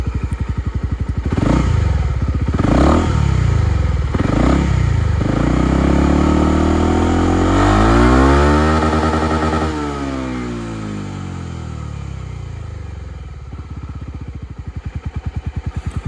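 A Suzuki Skywave 250 Type S scooter engine runs close by, revving up and down in several surges, then holding a long rising and falling drone before settling back to an even idle.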